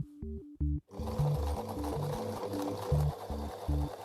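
A sewing machine stitching a wool cloak: a few short start-stop bursts, then a steady, close rhythmic whirring run with a clattering mechanical pulse and no voices.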